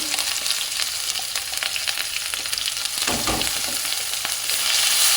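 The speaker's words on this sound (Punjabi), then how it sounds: "ਜਦ ਤੱਕ ਆਪਣਾ ਮਸਾਲਾ ਭੁੱਜਦਾ ਵਾ ਪੇਸਟ ਭੁੱਜਦਾ ਆਪਣਾ" Masala paste sizzles continuously in a pan while occasional stirring scrapes cut through, close and fairly loud, with the frying growing slightly louder toward the end.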